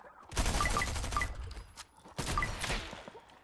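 Bursts of rapid gunfire in a multiplayer shooter video game, two loud volleys of close shots separated by a brief lull, with faint clicks and game effects beneath.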